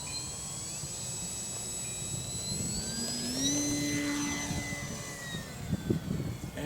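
SC17 Sport Cub model airplane engine at takeoff, a steady high whine that climbs in pitch as the throttle opens and holds loud and close, with gusty wind noise underneath.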